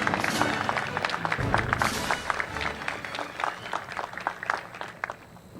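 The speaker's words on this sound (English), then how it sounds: "give them a great big round of applause" A graduation audience at Da Vinci Science applauds for the Class of 2021, a dense stretch of steady clapping with scattered louder claps that thins slightly toward the end.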